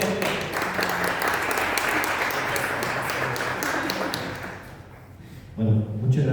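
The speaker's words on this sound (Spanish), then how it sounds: "Un aplauso." An audience at a book presentation applauds, a sustained, even wash of many hands that fades out near the end, followed by a brief thump and the start of a voice.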